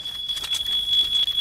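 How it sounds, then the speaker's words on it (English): A smoke alarm beeps in the Fortnite game, a single piercing high tone held steadily and fairly loud over quiet background noise. "Why is the fire alarm going off?"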